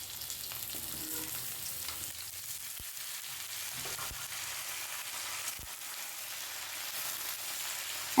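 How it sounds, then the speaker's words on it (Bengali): Vegetables for shukto fry in mustard oil in a kadai, a continuous soft hissing sizzle with a few faint taps of a spatula, steady and fairly quiet throughout. "এরপরে সব সবজিগুলো আমি ভালোভাবে এক এক করে ভেজে নিচ্ছি"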